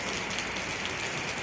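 Heavy stormy rain pours down in Karachi, a dense, steady, close-up hiss of water hitting surfaces with no let-up.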